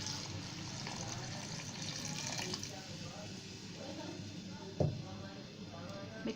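Half a litre of water poured into a pan of chicken mixed with cumin, dried coriander powder, turmeric, salt and vinegar, a steady splashing pour throughout, with a sharp clatter near the end.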